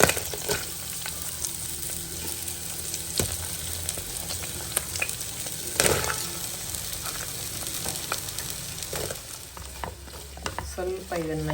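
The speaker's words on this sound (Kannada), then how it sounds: "ಸ್ವಲ್ಪ ಇದನ್ನು ಈ ರೀತಿ ಹುರ್ಕೊಳ್ಳೋಣ ಬೆಣ್ಣೆ ಮತ್ತು ಎಣ್ಣೆಯಲ್ಲಿ" Sliced onions frying in a pan of butter and oil, a steady close sizzle with scraping stirs and occasional clinks of a spoon against the pan throughout.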